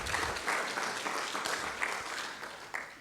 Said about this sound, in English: So big round of applause for our donors.